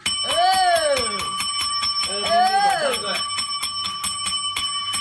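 A small bell closes a round of a live online auction, rung rapidly and repeatedly in sharp, bright strikes close by, while a voice talks over it.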